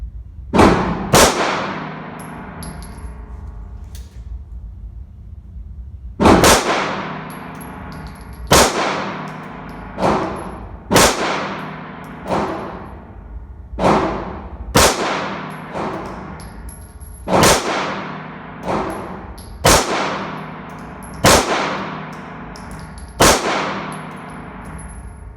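An IWI Jericho pistol fires shot after shot at steel targets, each sharp crack followed by a ringing metallic clang, spaced irregularly over about twenty seconds, loud and close without talk.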